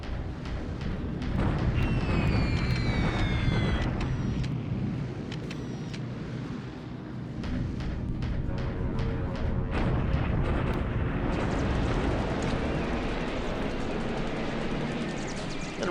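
Bombing raid in a World War II strategy war game, with a steady roar of explosions, rumbling blasts and whistling descending tones layered over continuous low booming for the whole stretch, loud and dense throughout.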